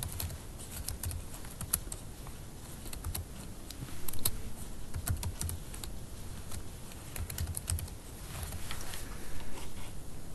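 Rapid, uneven tapping on a computer keyboard while a username and password are entered, close and steady with scattered louder key strikes and no speech.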